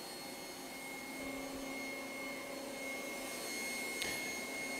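A Trifo Lucy robot vacuum cleaner runs nearby with a steady whirring drone and a high tonal whine, a short scrape around the four-second mark, and no talking.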